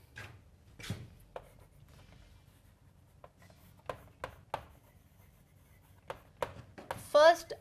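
Chalk or marker taps and strokes on a board in a classroom lesson, faint and scattered, with a quick squeaky scribble near the end.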